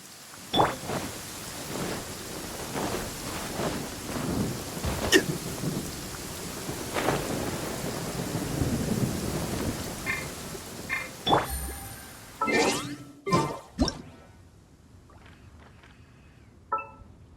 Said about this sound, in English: It's raining again? This isn't good.